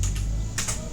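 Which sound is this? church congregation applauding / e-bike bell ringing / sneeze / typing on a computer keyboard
typing on a computer keyboard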